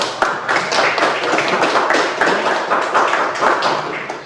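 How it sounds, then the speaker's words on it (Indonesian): A classroom of students applauding a presenting group, dense continuous clapping from many hands, loud and close, sustained for several seconds without pause. "Tepuk tangan dulu untuk kelompok 1"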